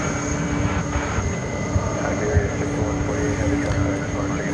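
At night at DFW Airport, an airliner bound for Madrid departs with a loud, steady jet roar that fills the whole moment, with a low rumble beneath.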